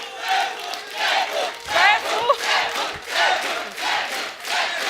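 A television comedy show's studio audience cheers and applauds as Saif Ali Khan walks on, loud crowd roaring and clapping in surging waves with whoops throughout.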